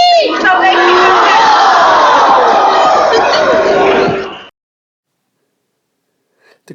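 A loud crowd of protesters at a Boston busing confrontation roars and shouts together for about four seconds, a dense wall of yelling voices that cuts off abruptly into silence.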